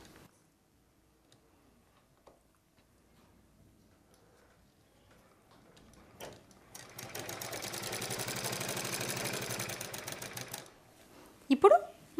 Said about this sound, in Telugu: ఇలా పెట్టి మనం మిషన్ పైవైపున కుట్టు వేసుకుందాం